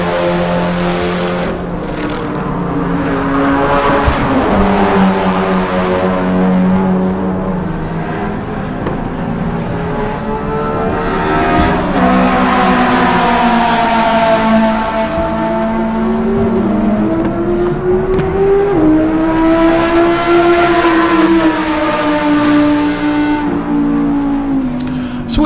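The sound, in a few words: Audi race car engine screaming on track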